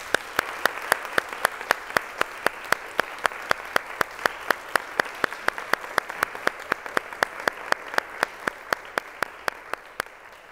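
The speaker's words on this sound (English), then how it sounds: "So let's give them a big round of applause" Audience at a conference reflection session applauds the organizers with steady, evenly spaced claps that keep a quick regular rhythm for about ten seconds at moderate level.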